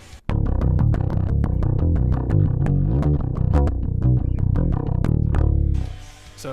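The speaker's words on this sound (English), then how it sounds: "But the basic DI sounds like this." Clean bass guitar played direct through a PreSonus AudioBox USB 96 interface, a riff of repeated plucked notes with a deep, dry and even tone, plain and unprocessed, ending on a brief noisy release.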